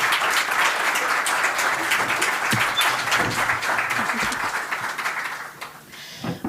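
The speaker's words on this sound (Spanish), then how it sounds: "Un fuerte aplauso," Steady applause fills an audience at a round-table event at a maritime museum in Galicia, dense clapping sustained for several seconds before tapering off near the end.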